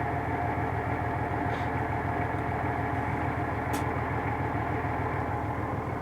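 A steady, rumbling diesel engine of an MTZ 1523 tractor idles continuously at close range, with a constant low drone and no other sounds standing out.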